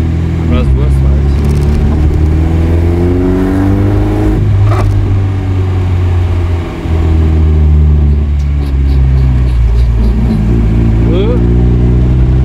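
A small Chevrolet Chevette engine idles and revs close by, its pitch rising and falling in waves, with people talking over it.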